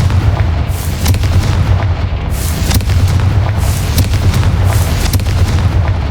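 A Confringo spell blast in the game Hogwarts Legacy sounds as a loud, continuous booming roar, heavy low rumble filling the whole stretch with repeated sharper bursts on top.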